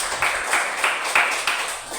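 A classroom of students claps for a classmate during a sociology lesson, a short burst of scattered, fairly close hand claps with several distinct strikes.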